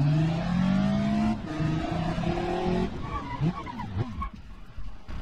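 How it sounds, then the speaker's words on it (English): A car in BeamNG.drive revs and accelerates with a strong engine drone that climbs through gear shifts, then eases into lighter engine noise and brief tire scrubbing as it slows and turns. "start driving the car just like I normally would"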